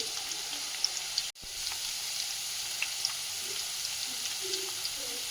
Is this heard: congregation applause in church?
no